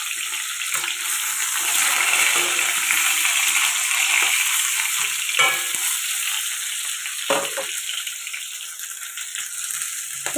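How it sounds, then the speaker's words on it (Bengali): Already-fried fish is fried again in a pan with a little oil, making a steady close sizzle interrupted by a couple of brief stirring knocks. "অল্প একটু তেল দিয়ে মাছগুলোকে আমি ভালো করে ভেজে নেব"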